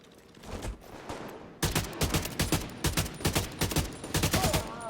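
An AK rifle fires rapid bursts in the video game The Division 2, with loud close automatic shots in fast repeated volleys after a brief quieter stretch, no talk over them.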